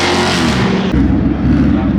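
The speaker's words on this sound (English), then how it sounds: "We got the twin turbo S550 Mustang rolling in." A twin-turbo Ford Mustang S550 pulls away from a car show in Texas, its engine roaring loud and close with a continuous, steady growl and a brief shift in tone partway through.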